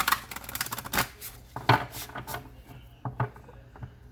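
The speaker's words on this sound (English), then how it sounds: "One more shuffle." A tarot deck is shuffled in a few quick riffling bursts with soft taps between them, close and fairly clear.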